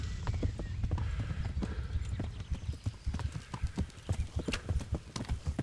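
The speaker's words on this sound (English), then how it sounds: "Is the horse getting tired?" Galloping horse hooves in the medieval video game Kingdom Come: Deliverance, fleeing sacked Skalitz: rapid, loud rhythmic clip-clop beats, steady and close, with a faint whinny and background game ambience, no talk.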